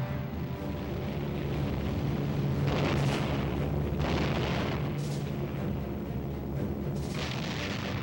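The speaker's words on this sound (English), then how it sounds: "RAF bombers and fighters pounded Japanese positions." Heavy explosions from bombing and artillery shelling of Japanese positions in the Burma campaign of WWII, as RAF bombers and fighters attack: a continuous loud rumbling barrage with several stronger booming bursts, no voices.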